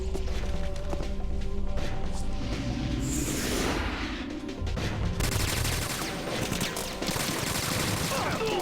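Rapid gunfire in Metal Gear Solid 2 rattles in dense, loud bursts against armed enemies, mixed with booming impacts and crashes under a continuous game soundscape.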